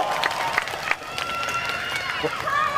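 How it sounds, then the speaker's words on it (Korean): A crowd at the Uiryeong Rich Rich Festival applauds the production staff after an encore stage, a dense wash of clapping and cheering mixed with a voice over a microphone. "제작진분들께 박수 한 번 주시면 감사하겠습니다"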